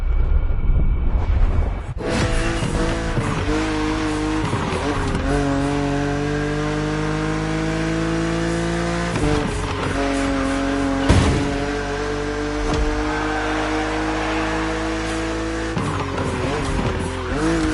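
BMW Z roadster racing in The Crew video game, a loud sustained engine drone with shifting pitch and repeated tire squeals throughout, close and unbroken, without talk.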